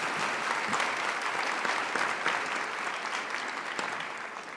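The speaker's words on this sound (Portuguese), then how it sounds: "Quem compreendeu, dá uma salva de palmas para o nosso Senhor Jesus" A congregation claps together during a Catholic preaching service, a sustained, even round of applause that stays moderately loud from start to finish, with no voices standing out.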